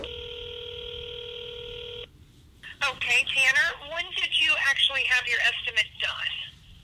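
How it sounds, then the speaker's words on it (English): Telephone keypad tones sound while a phone call is being placed, a steady chord of dialing beeps for about two seconds, followed by a person talking on the line. "I've got to make a phone call and actually I'm gonna do that right now."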